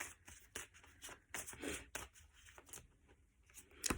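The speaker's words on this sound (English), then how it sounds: "Okay, let me give them a shuffle." Tarot cards are shuffled by hand, close and quiet, in a series of short riffling and sliding bursts with brief gaps between them and no talking.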